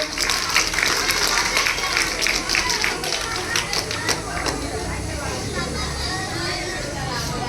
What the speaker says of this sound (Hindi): तो इस लड़की के लिए, हंसिका के लिए सब जोर से ताली बजाएंगे।